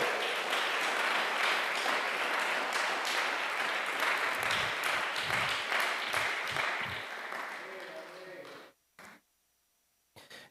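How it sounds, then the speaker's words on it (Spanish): A church congregation claps in sustained applause that fills most of the span, then tapers off and cuts to near silence at the end. "Dele ese aplauso al Señor esta noche."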